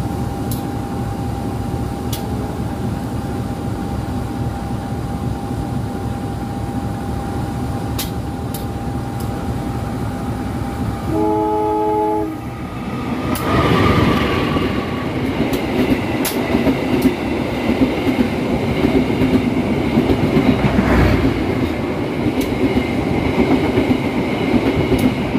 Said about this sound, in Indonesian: setelah kereta api lewat